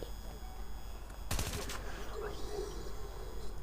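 A short burst of automatic gunfire in the video game Call of Duty cracks out mid-clip over game background noise, a single rapid volley.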